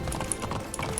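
Horse galloping in the Alicia Online racing game, a quick, rhythmic clip-clop of hooves that is loud and close throughout the brief stretch.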